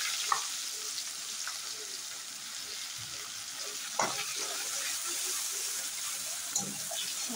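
Chopped onions hit hot oil in a pan and sizzle with a steady hiss, with a few clinks and stirring taps from a utensil, close and continuous.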